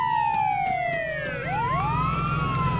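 Police car siren from the video game Arma 3, a wailing tone sweeping down then rising again, steady and fairly loud over a low engine hum.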